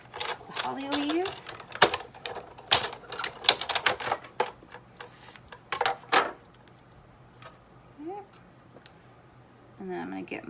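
A Sizzix die-cutting machine cranks a gold glitter cardstock holly leaf through its plates, giving a run of close, sharp mechanical clicks and clacks, with brief talk in the middle of the stretch.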